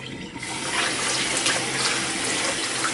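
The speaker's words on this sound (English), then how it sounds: "And with this water you just simply pour it away." Rinse water from teaware pours steadily and continuously, a full splashing stream running into a basin without pause, fairly loud and close.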